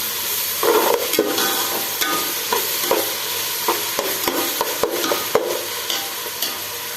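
Sliced onions with a pinch of salt frying in a pan for chicken biryani, a steady sizzle broken by repeated scraping stirs and clinks of a spoon against the pan, close and alone.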